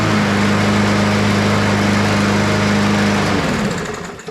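A Craftsman push lawn mower with a Briggs engine and a plastic carburetor runs at a steady, loud, buzzing drone up close, then sags and fades slightly at the end.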